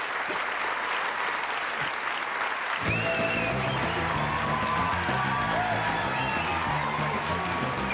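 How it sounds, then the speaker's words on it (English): An awards-ceremony audience applauds Ben Elton's Olivier Award win for Popcorn: crowd murmur first, then a loud, sustained wash of clapping with some whoops for the rest of the stretch. "share with us in your applause"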